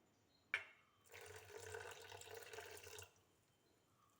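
Water from rinsing a mixer jar is poured into a bowl of wheat dosa batter, a soft brief splash followed by a few seconds of gentle steady pouring, faint and close in a quiet kitchen.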